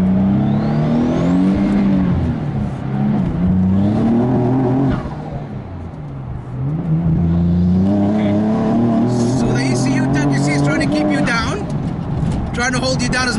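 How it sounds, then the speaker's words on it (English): A loud twin-turbo Nissan 370Z engine of about 950 bhp roars nearby, rising and falling in pitch as it passes and pulls away, with a brief dip midway and crackling toward the end. "let's just wait till this car goes"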